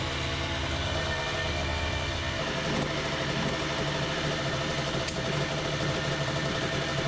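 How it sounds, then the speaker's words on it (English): Two 1989 Honda CR125 and CR80 dirt bikes idle together to warm up, a steady continuous engine drone with a shift in tone partway through, moderately loud and with no talking. "Start the engines and allow them to reach operating temperature"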